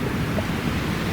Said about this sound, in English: So what you're hearing right now are the ocean waves